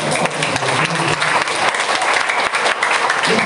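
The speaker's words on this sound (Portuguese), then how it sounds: "Aplauda para Jesus" A church congregation at a Sunday family worship service claps loudly and densely, a close, energetic burst of applause that stays strong throughout.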